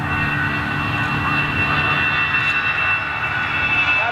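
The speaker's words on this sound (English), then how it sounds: "Now, they are CFM 56 engines now." A jet airliner with CFM56 engines at Schiphol roars steadily and loudly, a continuous broadband engine rumble with a faint whine holding throughout.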